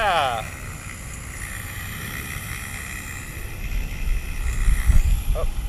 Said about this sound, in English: caught a gust of wind.